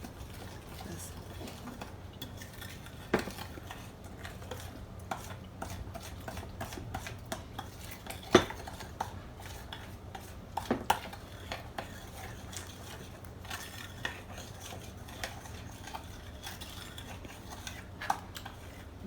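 A spoon clinks and scrapes against a bowl in irregular taps while mixing sour cream apple pie batter, with soft background noise and no talking.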